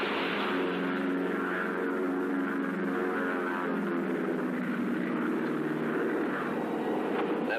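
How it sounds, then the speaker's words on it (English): A propeller airplane drones steadily overhead, its engine hum constant and fairly loud throughout, with no voices. "That plane could be very handy for covering the sound of gunshots."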